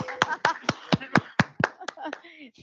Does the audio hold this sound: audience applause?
yes